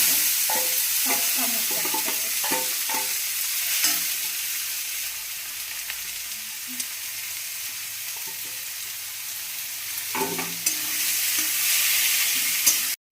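Meat for pan-made momos sizzles steadily in hot oil with spices, close and continuous, with clattering spatula stirs through the first few seconds and again near the end; no one speaks.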